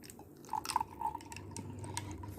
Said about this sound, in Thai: เดี๋ยวเราเทน้ำเย็นจัดลงไปวูบ